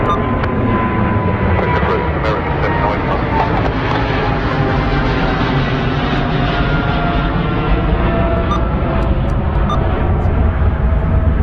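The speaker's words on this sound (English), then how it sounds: "So just wow, that is a steep climb out. American Airlines 777-300ER. Still banking hard." An American Airlines Boeing 777-300ER climbing steeply out of London Heathrow, its jet engines a loud, steady broadband roar that holds throughout.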